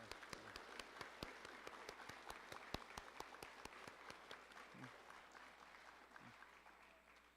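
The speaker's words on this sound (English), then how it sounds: "Let's give them a round of applause." Applause for a student honor guard at a correctional officer academy graduation ceremony, a steady round of clapping from a large audience, with sharp individual claps standing out and the sound fading slightly toward the end.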